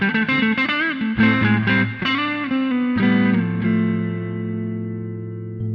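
Electric guitar with the NotaDumble pedal bypassed, played through a British vintage cab with light studio reverb: a few clean picked notes and chords ring out, then a sustained chord decays slowly.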